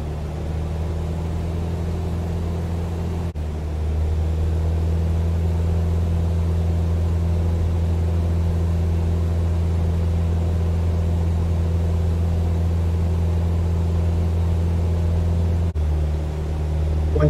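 A light aircraft's engine runs at full power in a climb, a loud, steady droning hum with strong low tones that holds evenly from start to finish, with brief dips at two points.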